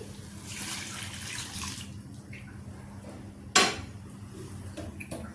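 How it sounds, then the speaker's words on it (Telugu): Water left from boiling peas splashes and pours into a cooking pan for a couple of seconds, followed by a sharp metallic clank and a few light utensil taps. "బఠానీలు ఉడికించుకున్న వాటర్ ఉన్నాయి, అవి వేస్తున్నానండి"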